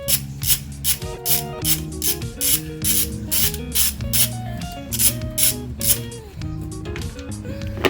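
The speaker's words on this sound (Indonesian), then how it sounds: "jadi lebih baik menggunakan kunci sok" A socket wrench ratchets loose the rocker cover bolts on a Nissan Serena C24 engine. Rapid, close, rhythmic clicking comes in quick repeated strokes, with short pauses between pulls, and there is no talking.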